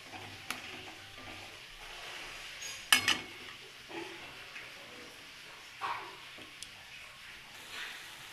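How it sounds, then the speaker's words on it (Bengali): Masala sautéing in a pan for a fish curry over medium-low heat, heard as a faint low sizzle with occasional scrapes and clinks of a spoon against the pan, one sharper knock near the middle. "কষিয়ে নেব।"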